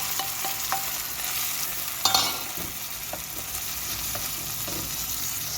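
Chopped tomatoes go into a hot pan of frying eggplant for a Turkish dish, setting off a steady close sizzle with a few scraping stirs and clinks of the spoon.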